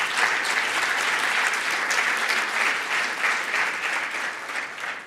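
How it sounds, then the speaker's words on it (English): Dense, loud audience applause at a nuclear energy forum's main stage for an award winner from a Budapest university, continuous clapping filling the whole few seconds. "So please, can you give your applause for that?"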